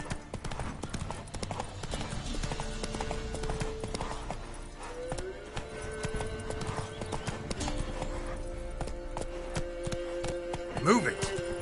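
Roach, the horse in The Witcher video game, gallops along with steady rapid hoofbeats, a whinny near the end, and a game soundtrack with voices running under it.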